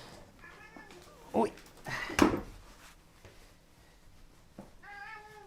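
A cat meows indoors, a short cry at the start and another near the end, with thumps and a door or drawer sound in between. A person speaks briefly.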